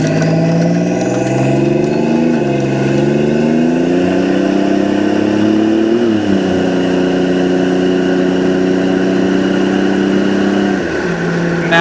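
A 1987 Buick Grand National accelerates at about one-third throttle on a test drive. The close, loud engine note climbs in pitch, drops at each of several gear shifts, and builds again, with no talking over it.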